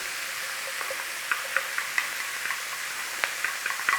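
Garlic frying in a pan for a black pepper beef stir fry, a steady soft sizzle with small scraping and clicking taps as it is stirred, close and without talk.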